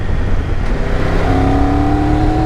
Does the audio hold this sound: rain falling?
no